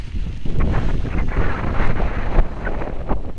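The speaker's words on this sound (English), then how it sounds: "A little windy here." Strong wind buffets the microphone with low, rumbling gusts that rise and fall steadily on a hiking trail at the Santa Rosa Plateau, with no voices.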